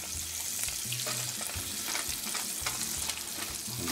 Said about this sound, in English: saute off a quarter cup of onions diced and a quarter cup of celery along with the leaves